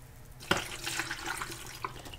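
Organic coconut water pours into a measuring cup, a soft liquid splash beginning abruptly and trickling unevenly close by, quiet and without talk.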